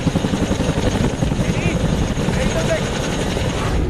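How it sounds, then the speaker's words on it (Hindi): An Indian Air Force Chinook transport helicopter takes off with a heavy, loud rotor roar and a rhythmic low thudding, joined by a whining turbine, continuous throughout. "भारतीय वायुसेना का चिनूक हेलीकॉप्टर जो ट्रांसपोर्ट हेलीकॉप्टर है वो उड़ चुका है"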